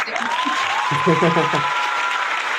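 Applause for wrestler Billy Gunn rolls on as a broad, steady wash of clapping while someone talks loudly over it.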